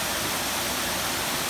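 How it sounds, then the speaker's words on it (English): A waterfall on a hiking trail roars as a dense, unbroken wash of falling water, loud and close, filling the whole moment with no voices. "This is the last waterfall, I think."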